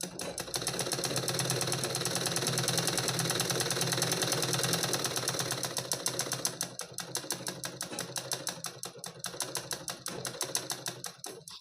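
A sewing machine runs in a fast, steady rhythmic clatter for several seconds while sewing, then the stitching slows into separate, distinct mechanical clicks near the end.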